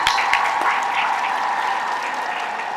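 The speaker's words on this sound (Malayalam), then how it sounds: "അതിൽ പങ്കെടുത്തവർക്കും അത് കണ്ടു നിന്നവർക്കും എൻ്റെ വക ഒരു അഭിനന്ദനം," An audience at a school Onam celebration applauding, a steady continuous clapping heard from within the hall, even in level throughout.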